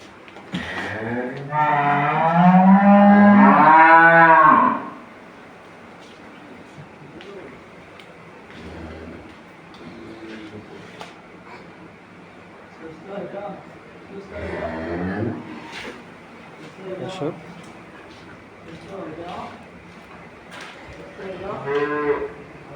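A loud, drawn-out moo from a Holstein Friesian dairy cow close by in a shed opens the scene; afterwards a person talks over a quieter background with another moo later on.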